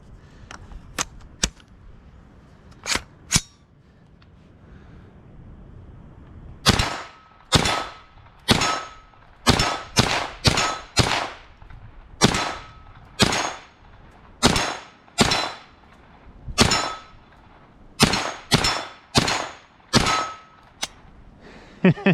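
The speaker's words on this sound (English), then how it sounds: "So we're going to fire off a few more shots" Foxtrot Mike AR9 carbine fired at hanging steel targets about 50 yards out, a few scattered shots then a steady run of sharp cracks, each followed by a ringing metallic clang, loud and close with no talking.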